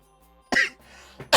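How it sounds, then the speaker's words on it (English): A man coughs twice in short, harsh bursts, the first a throaty hack followed after a brief pause by a second sharp cough, close and fairly loud against a quiet background. "I was about to speak and I started coughing."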